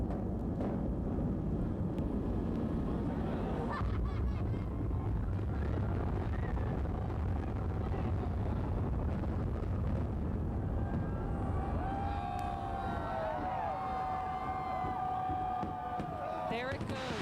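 Three Rivers Stadium being imploded: a long, sustained low rumble of collapsing structure, heard from a distance under steady crowd and broadcast noise, with a whistling tone rising late.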